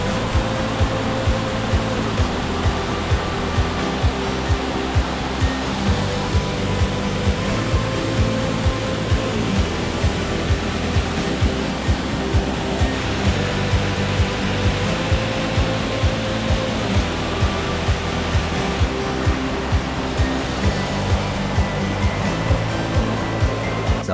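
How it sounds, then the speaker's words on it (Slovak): Large waterfall Veľký Sokol pouring down a rocky gorge valley in Slovenský raj, a steady loud broadband roar of falling water that continues without a break. "Dnom doliny sa dostaneme k veľkému vodopádu"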